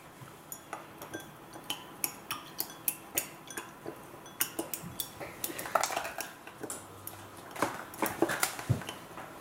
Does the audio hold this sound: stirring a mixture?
yes